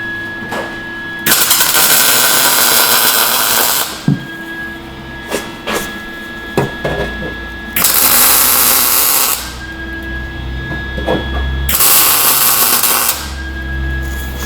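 Tack welds go onto a patch panel on a Ford F150 truck cab in a rust-repair job: three long harsh crackling bursts of a few seconds each, with a steady high whine and brief clanks and taps between them.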